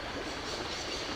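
A steady, rumbling train sound rolls on without a break as a train arrives in the adventure game Syberia, with a broad, fairly soft mechanical hum.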